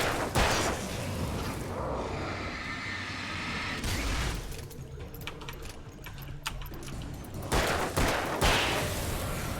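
Gunfire in Alan Wake, several sharp shots and rattling bursts in quick clusters amid a dense, noisy fight.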